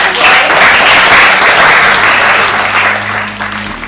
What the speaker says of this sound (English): A huge round of applause to all of our